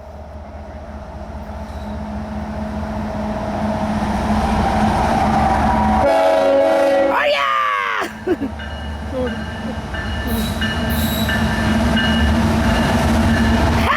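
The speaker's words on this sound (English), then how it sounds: "The train is coming out of underneath this bridge." A long, loaded CSX coal freight train with helper locomotives rumbles past close by, eastbound, with a loud, drawn-out horn blast and clattering wheels, while a voice cheers excitedly.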